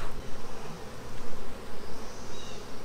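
Honeybees buzzing around an open hive as frames are inspected, a dense, steady drone of many insects close by with a few louder passes near the ear.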